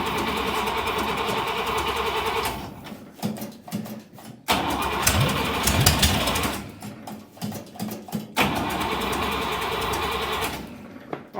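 A Buick Nailhead V8 in a vintage dragster cranks with a rapid rhythmic starter chatter, tries to catch in rough sputtering bursts, then falls back to cranking, loud and close with short gaps between attempts.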